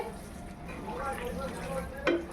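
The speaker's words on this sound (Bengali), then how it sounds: "কাজু কিশমিশ দিয়ে একটুখানি নাড়াতে হবে, তা নাহলে তোমার তলায় ধরে যাবে" Chicken maharani curry with cashews, raisins, poppy seed paste and milk is stirred in a pan, giving a soft continuous sizzle with scraping strokes and a sharper utensil knock near the end, set against a faint voice.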